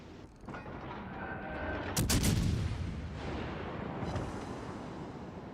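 Naval main battery guns boom in World of Warships Legends, one sharp heavy blast standing out over a constant rumbling, crackling battle din, with softer echoing thuds following.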